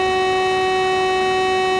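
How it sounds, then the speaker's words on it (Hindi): Horn of a Class 375 electric multiple unit train in the Train Sim World 3 game, one steady loud sustained blast with rich harmonics lasting the whole moment. "काफ़ी शानदार हॉर्न है यार इसका।"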